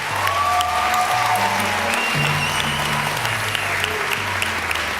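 Studio audience applauding at a televised reality-show grand finale, thick continuous clapping with sustained low musical tones playing underneath and a few faint whistles above.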